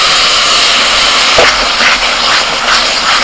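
Loud, continuous hiss of water hitting frying ground spices such as Kashmiri chilli, red chilli, cumin and coriander powder in a pan, with a brief splash midway and a steady roar of steam throughout.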